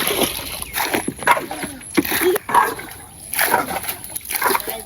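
Water is scooped and tossed out of a boat in rhythmic splashes, roughly one every second, close by and fairly loud in an outdoor rainy-season setting.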